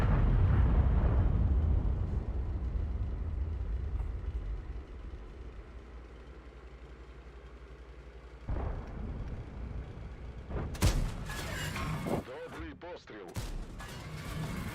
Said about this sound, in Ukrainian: Да, два добрих постріли.